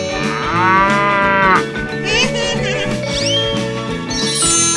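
A cow moos in a 3D animal video game, a long, loud, drawn-out low call followed by shorter moos over layered game music.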